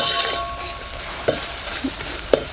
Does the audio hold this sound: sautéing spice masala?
yes